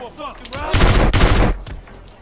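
A burst of rapid video-game gunfire in Arizona RP crackles loudly for under a second, followed by a second volley, with faint voices around it.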